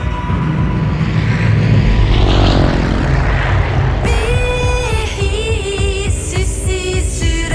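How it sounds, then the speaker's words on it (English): A propeller airplane approaches in the survival shooter Vigor, its engine drone loud and steady under game music that swells midway through. "plane is approaching your area."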